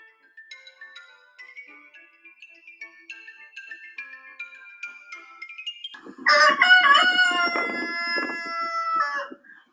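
A rooster crows loudly and close by, one long drawn-out call with harmonic tones, after several seconds of quieter bird chirping.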